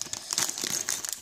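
Plastic wrapping on a LEGO Star Wars magazine being crinkled and torn open, a quick burst of sharp rustling and crackling close up, alone without talk.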